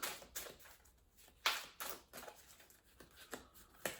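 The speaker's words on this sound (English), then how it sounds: "I do want to get these nice and shuffled." A deck of tarot cards is shuffled by hand, producing quiet, close riffling and slapping bursts in an irregular rhythm with short pauses between them.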